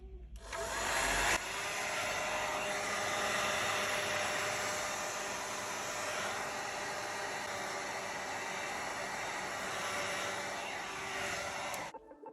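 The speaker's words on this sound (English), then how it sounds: "Use a heat gun or hair dryer to heat up the surface of the back panel." A hair dryer or heat gun blowing steadily to heat the back panel of a Google Pixel 4 phone, a loud continuous whooshing hum that starts abruptly and runs for about eleven seconds before cutting off.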